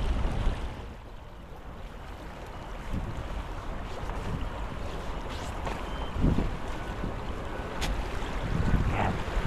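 Wind buffets steadily over sea waves washing against a boat at sea, a continuous broadband rush with occasional gusts, no voices.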